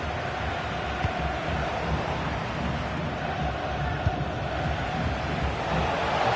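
A stadium crowd roars in a football video game, a steady, loud wash of massed voices with a few brief sharper bursts and no clear individual speech.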